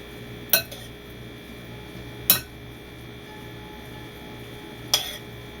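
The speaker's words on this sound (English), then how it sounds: "And I will just stir that all up. This time I am using a spoon." A spoon knocks against a bowl while stirring a kale and avocado salad, three sharp clinks spaced seconds apart over a low steady background hum.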